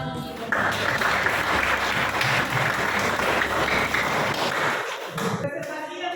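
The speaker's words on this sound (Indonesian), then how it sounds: "Kita beri tepuk tangan untuk mereka." A classroom of students claps for a group presentation with steady, moderately loud applause lasting about five seconds before it tapers off.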